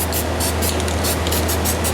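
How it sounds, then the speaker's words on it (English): White spray paint hisses from an aerosol can onto a painting in quick, repeated bursts, close and loud, with a low steady hum beneath. "which is just me spraying the white down"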